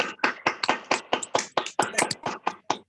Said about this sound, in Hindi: सर जोरदार तालियां बजा दीजिए कृपया हमारे यतिराज सर